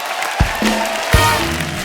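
Studio audience applause on The Kapil Sharma Show, a dense burst of clapping from the crowd continuing throughout, punctuated by a couple of sharp thuds and a sustained musical tone underneath.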